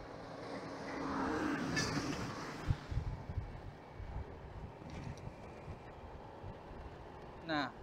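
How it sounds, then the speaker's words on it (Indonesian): A dolly truck drives along a coal mine haul road, its engine a low broad rumble close by. Wind buffets the microphone, with a brief higher whine near the end. "ini ada mobil doli lagi"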